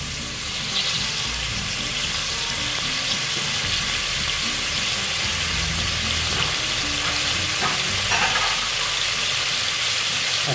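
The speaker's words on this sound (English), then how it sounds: "Okay, now we need to stir well." Amaranth soup with pork bubbles and sloshes in a pot as it is stirred, a close, steady simmering hiss with soft scraping and no talking.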